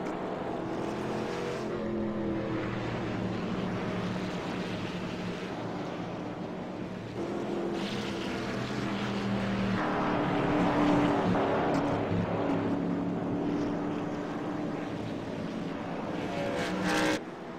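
Race cars roaring around a track near pit road, a steady loud engine drone that swells and shifts as cars pass, continuous throughout with no talk.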